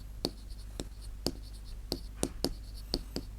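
A pen or chalk writes a fraction on a board in a string of sharp, regular taps and strokes, about eight distinct marks over a few seconds against a quiet background.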